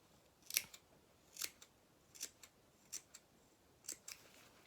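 Sharp scissors make a series of quick, crisp snips, about six or seven in an uneven rhythm, cutting into the curved seam allowance of a doll's waistcoat. The snips are close and fairly quiet, with no voices.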